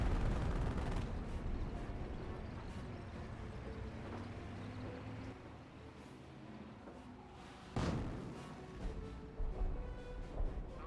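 A creeping artillery barrage in the war strategy game Company of Heroes, a dense rumble of distant explosions and gunfire with a sharper, louder blast near the end, heard alone without talk.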